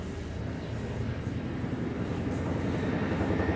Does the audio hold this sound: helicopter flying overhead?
yes